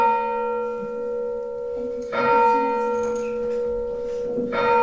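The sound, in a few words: church bell ringing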